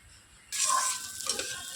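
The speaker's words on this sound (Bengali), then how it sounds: "গরম ঘিয়ের মধ্যে মুগ ডালটা দিয়ে দিচ্ছি। নাড়াচাড়া করে এবার একটু লাল লাল করে ভেজে নেব।" Mung dal hits hot ghee with a sudden loud sizzle that breaks a quiet pause, then keeps hissing as it is stirred and fried.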